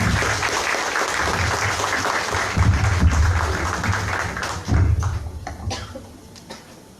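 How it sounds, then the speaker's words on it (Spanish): Loud, sustained applause from an audience welcoming a speaker at a family-law lecture in Tacna, steady clapping that swells briefly and then tapers off toward the end. "vamos a darle el aplauso que se merece como tacneños que somos"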